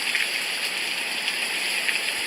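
Steady rain on a very rainy day, a dense, even hiss of falling water with constant dripping and no pauses.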